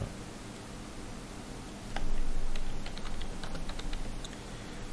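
Clicks of typing on a computer keyboard, a short run of quick, light keystrokes over a steady background hiss.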